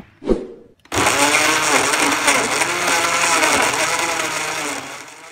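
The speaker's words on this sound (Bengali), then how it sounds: "এখন ঢাকনা লাগিয়ে সব কিছু ভালোভাবে ব্লেন্ড করে নেব।" After a short clunk, an electric blender roars into a loud, steady whir, blending cucumber juice with water and running continuously to the end.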